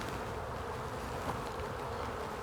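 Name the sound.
honey bees buzzing around an open hive frame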